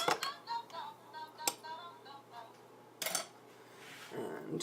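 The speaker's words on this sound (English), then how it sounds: "So we're gonna stir it a little bit." A spoon stirs a keto Baileys mocha coffee cocktail, giving a few light metallic clinks and taps against the glass, close and fairly quiet, with some background movement.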